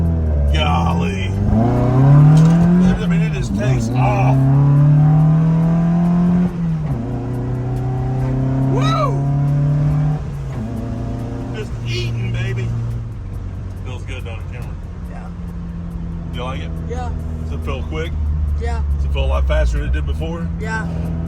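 A 1979 Fiat 124 Spider 2000 with dual 44 IDF carburetors accelerates hard, its loud engine note climbing and shifting through gears for about twenty seconds, with talking over the drone.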